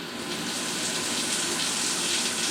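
Water spraying from an AquaDance dual shower head with both heads running, a steady even hiss of dense spray throughout, close and unchanging.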